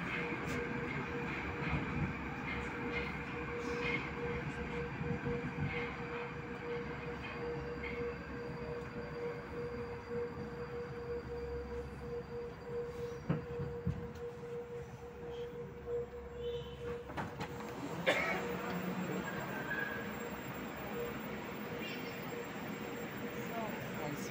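A Moscow metro train runs along the Big Circle Line with a steady, loud rumble of wheels on track and a sustained whine, plus brief clanks and a sharper rise in noise near the end.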